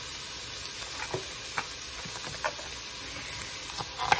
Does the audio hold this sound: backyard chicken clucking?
no